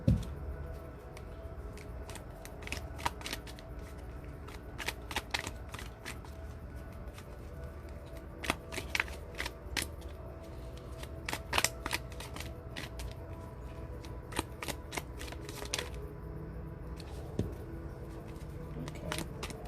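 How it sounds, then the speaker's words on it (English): Oracle cards are shuffled by hand, producing soft, irregular papery flicks and riffles over a low background hum, close and continuous with no speech. "Well, I'm not finished shuffling."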